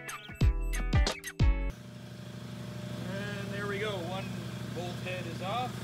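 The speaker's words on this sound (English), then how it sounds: "So we're just gonna cut these bolts off, and then what we can do is take out the center tube." A power tool cuts through the exhaust bolts on a Toyota RAV4, giving two loud, harmonic-rich whining bursts near the start. After that comes a steady lower engine-like drone, and a person speaks over it.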